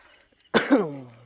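A single close cough breaks a near-silent room, one sharp burst followed by a rough, throat-clearing tail that fades over about half a second.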